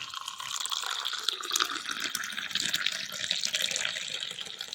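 Tap water runs steadily into a kitchen sink while a tea cup is rinsed under it, a close, continuous splashing stream with no talking.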